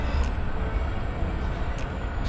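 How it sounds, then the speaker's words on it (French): Steady low rumble and rolling hum inside a moving Paris RER suburban train, a continuous dense drone with faint high hiss and no clear voices. "Dans le RER."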